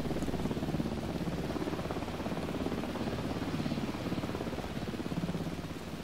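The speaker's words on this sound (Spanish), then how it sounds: "Parece un helicóptero, tío." A helicopter passes overhead in the video game Alan Wake 2, a steady, rapidly pulsing rotor thrum with a dull engine drone. It stays fairly loud and even throughout, with no break.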